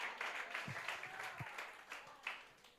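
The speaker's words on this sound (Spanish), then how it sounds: "Vamos y a ver si aplaudimos todos juntos ahora." A church congregation clapping together, a soft, distant wash of many hands with a few louder individual claps and thumps mixed in, fairly quiet overall.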